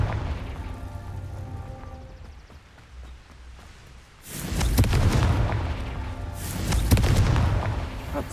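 Confringo blasting-spell explosions in the Hogwarts Legacy video game: two heavy booming bursts with rumbling tails, about two seconds apart, loud and close, following a quieter stretch of game ambience.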